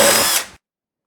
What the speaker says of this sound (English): I mark another line so I can center all my pre-drilled holes for my pocket hole screws